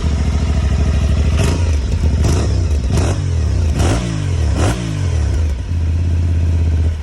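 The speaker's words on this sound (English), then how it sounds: "Exhaust sound of Aprilia Tuareg" Aprilia Tuareg 660 motorcycle exhaust, a steady loud idle rumble punctuated by five sharp throttle blips that rev up and drop back, close and with no talking.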